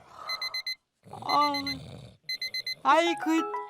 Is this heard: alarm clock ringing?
yes